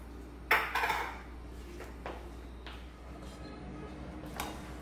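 Ingredients tossed in a frying pan on a gas stove, giving one loud clattering scrape of food and metal followed by a few lighter taps and knocks against the pan, close by with no talking.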